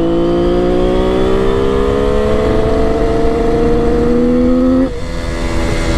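A Kawasaki KH500 H1 two-stroke triple motorcycle rolls on the throttle in second gear, its loud, rising engine note climbing steadily before easing off near the end.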